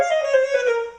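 Saxophone playing a brief phrase from a TMEA All-State etude, a single sustained, reedy tone gliding slightly in pitch, close and clear with no other sounds, lasting about a second.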